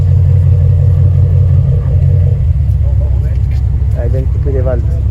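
Supercar at a 2022 gathering on the Paris quai of the bateaux mouches, its engine giving a loud, deep, steady rumble as it pulls away, close and heavy, with people talking over it toward the end.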